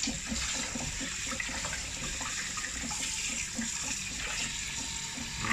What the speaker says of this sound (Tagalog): Hugasan na po natin ang pakpak.